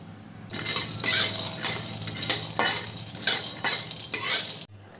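Peanuts being dry roasted in a pan for chikki, with a steady run of rattling, clinking bursts as the nuts are stirred and tossed against the metal.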